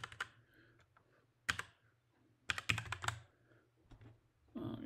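Typing on a computer keyboard while working in a firewall lab, a few quiet clicks and then several short bursts of rapid keystrokes with pauses between them, close and faint.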